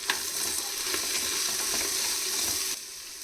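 Masala sizzles and fries in a pan as Kashmiri red chili powder goes in, a dense, steady hiss with light stirring scrapes that drops off abruptly near the end.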